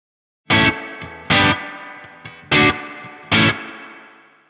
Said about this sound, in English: First of all, I have a spring reverb.